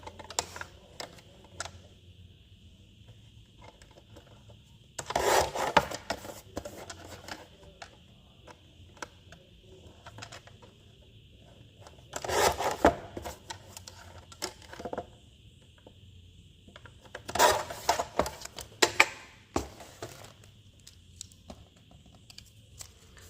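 Paper is cut for a swatch page in three short bursts of crisp snipping and rustling, separated by quiet stretches with faint clicks, close and fairly soft.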